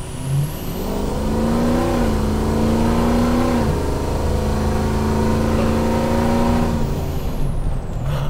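Turbocharged school bus engine running at full throttle with about 500 horsepower and heavy boost, a loud, steady roar with rising pitch as it accelerates, a brief shift dip, and turbo whistle, close and sustained for eight seconds.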